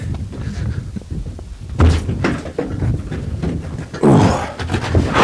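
Heavy metal hatch of a BT-7 tank thuds shut with loud, close clunks, followed by rattling and a second solid slam, no voices.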